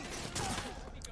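Gunfire in the video game Cyberpunk 2077, a short burst of loud rattling shots heard as dense, noisy game audio.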